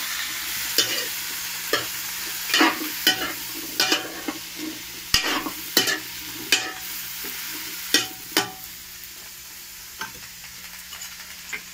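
Squash being stirred into a coconut-milk crab stew, with a dozen or so scraping, clattering strokes in uneven rhythm over a soft steady simmer, close and moderately loud, with no talking.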